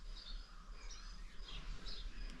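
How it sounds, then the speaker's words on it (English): Faint early-morning birds chirp in short scattered bursts over a low background hum in a quiet village in Trinidad and Tobago, with no voices. "you can hear some sounds from the birds"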